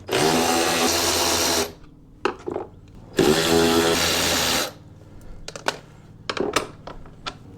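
Power tool driving a deep socket to remove a 7/16 inch nut on a 2002 Polaris Sportsman ATV, two loud sustained whirring runs of about a second and a half each, separated by clicks and clatter, with a voice between.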